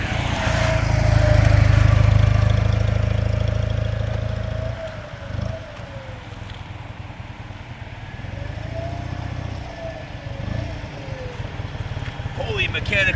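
A 1965 BMW R50/2 vintage motorcycle idles close by with a steady low thrum. The engine sound is loudest at first, then drops back while someone talks over it.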